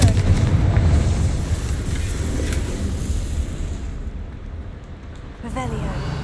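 A Confringo blasting spell detonates in Hogwarts Legacy with a loud, deep rumbling boom that fills the opening seconds and slowly fades, followed by a short burst of fresh crackling activity near the end.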